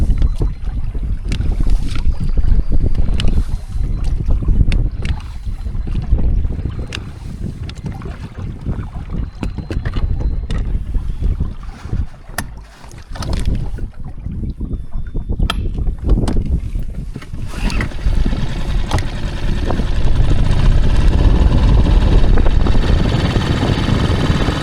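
A small inflatable boat's outboard engine runs steadily on the sea in an inland-sea setting, its drone mixed with heavy wind buffeting the microphone and water slapping, close and loud throughout.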